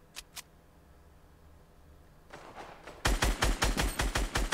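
Two sharp shots sound early in a Fortnite match, then after a quiet build a rapid string of loud, close gunshots fires in quick rhythmic succession, roughly a dozen reports in under two seconds.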